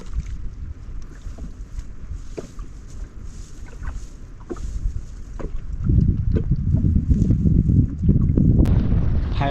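Strong wind buffets the microphone in a forest campsite, a steady low rumble that grows heavier and gustier toward the end, with no talking.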